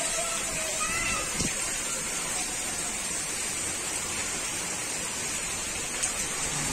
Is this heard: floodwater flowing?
yes